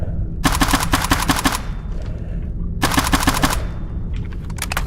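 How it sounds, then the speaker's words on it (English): Rapid automatic gunfire from a rifle emptying a full magazine in S.T.A.L.K.E.R. Anomaly, two loud sustained bursts of closely spaced shots separated by a pause, with ambient game noise in between. "I just mag dumped a normal barrel."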